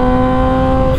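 Kawasaki Ninja H2 supersport motorcycle being ridden on canyon roads, its engine holding a loud, steady drone close by for a brief moment with no talk.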